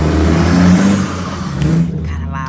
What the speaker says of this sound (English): Kind of loud, my bad. Truck, city, Boston life.